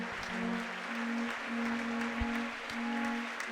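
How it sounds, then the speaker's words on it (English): Audience clapping at an IFSC World Cup bouldering final in Meiringen, a steady broad wash of applause from a crowd that holds for several seconds, with a faint hum running underneath. "Applause there for Katja's Arvine."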